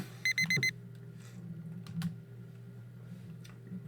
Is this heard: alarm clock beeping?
yes